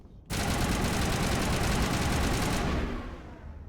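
Rapid automatic gunfire in the video game Mass Effect Legendary, a loud continuous burst that starts abruptly and runs for over two seconds before cutting off, close and dominant.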